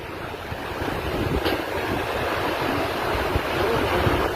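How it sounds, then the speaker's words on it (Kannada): Sanitary sewage water from pipes flows like a river near a dam, a broad, steady rushing wash mixed with wind buffeting the microphone, loud and continuous throughout. "ಇದು ನೋಡಿ ಹೆಂಗೆ ಹೋಗ್ತಾ ಇದೆ ನದಿ ಹರಿದಂಗೆ ಹರಿತಾ ಇದೆ"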